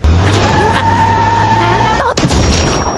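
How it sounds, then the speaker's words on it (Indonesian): A car skids away in a scene from the horror film Clown in a Cornfield, a loud close tire squeal over engine roar that cuts briefly, then jolts back with a thud and rumble. "gak pakai lama Arthur segera membawa mobil itu untuk kabur dari sana"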